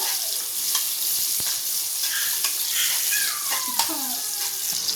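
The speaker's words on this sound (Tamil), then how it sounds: "நல்லா வதங்கட்டும் நல்லா பொன்னிறமாகிற மாதிரி வதங்கட்டும்" Chopped onions sautéing in a pan for a Madurai-style mutton salna, a dense continuous hiss of frying oil with faint occasional utensil scrapes, no speech.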